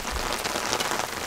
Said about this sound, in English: But... the rain is here.